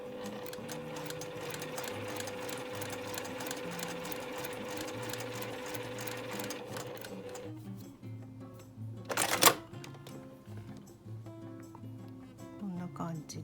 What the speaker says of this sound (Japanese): これ右寄りに今ちょっとゆっくり縫ってますけれど